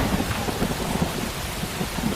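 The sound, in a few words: heavy rain with thunder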